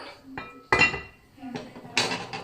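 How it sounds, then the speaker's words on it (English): A pot lid clatters onto a pot of Thai chicken curry in a home kitchen, giving a few sharp metallic clinks and knocks in an irregular rhythm, close and moderately loud. "And then you pop your lid on."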